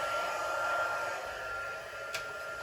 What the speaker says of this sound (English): I just want to plug in my heat tool so it's nice and hot when we're ready to go so it won't be loud for too long